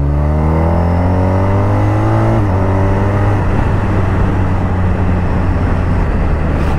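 A 2023 BMW R 1250 RT motorcycle in Triple Black revs up, its engine note climbing steadily in pitch before breaking into a rougher, louder roar as it pulls away; loud and close, with no talk.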